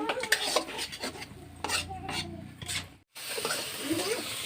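Spices are stirred in a cooking pan with a spoon, scraping and rasping strokes against the metal in uneven bursts, briefly pausing, with faint talk in the background.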